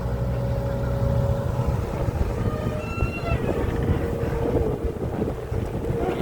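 Strong storm wind blowing steadily outdoors at an earthmover work site, a continuous loud roar with gusty rumble buffeting the microphone throughout, with no pauses.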